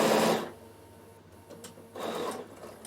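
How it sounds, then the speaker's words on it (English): A domestic sewing machine stitching fabric across the bottom and up the side of a seam, a soft rapid whirring burst at the start, a quiet pause, then a second run of stitching, close and faint with no talk. "So across the bottom and up the side. So I'll just do that now."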